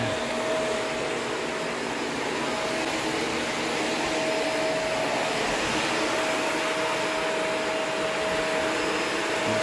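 A filtered household vacuum cleaner runs steadily for several seconds, a constant, fairly quiet whooshing hum with a faint thin whine and no talking over it.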